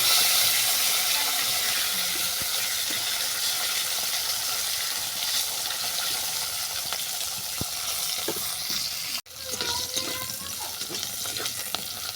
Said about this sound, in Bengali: এই তেলের মধ্যে একে একে সবজিগুলোকে ভেজে নেব